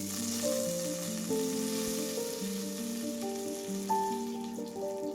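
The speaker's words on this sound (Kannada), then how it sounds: "ಈಗ ಕರಿಬೇವು ಸೊಪ್ಪು ಹಾಕ್ಕೊಳ್ಳೋಣ." Curry leaves sizzle and fry in hot oil with popped mustard seeds in a cooker for sprouted horse gram sambar, a steady crackling hiss with background music and no talking.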